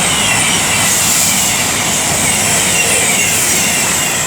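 Two coupled Avanti West Coast Class 221 diesel units, 221104 and 221111, pull into Lichfield Trent Valley on the West Coast Main Line. Their approach is a steady, loud, broadband rumble and roar with no clear breaks.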